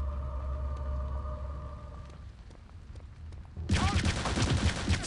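Gunfire from a gun in the video game Return to Castle Wolfenstein erupts as a loud rapid burst of shots in the final second and a half, after a quieter stretch of low hum and ambience.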